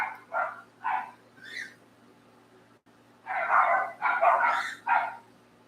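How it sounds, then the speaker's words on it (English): Several dogs bark in short clusters, a few sharp barks, a pause, then a louder run of overlapping barks and yips, moderately near outdoors with thunder around. "That's my dogs."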